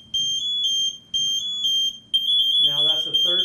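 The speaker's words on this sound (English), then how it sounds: "We're going to let it go through the first stage, second stage, third stage of pre-alarm, all the way to full alarm." An MSA G1 device sounds its third pre-alarm stage, a loud, shrill high-pitched electronic tone in repeated long pulses that turns continuous, with someone talking over the final stretch.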